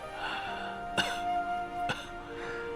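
A woman with a long-standing chronic ailment coughs twice, sharp dry bursts about a second apart, close and clear against a quiet room with a faint tonal background.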